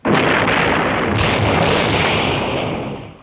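Mortar shell explosion hitting mines, a movie sound effect: one loud, sustained roaring blast that holds steady for about three seconds and then fades, with no voices.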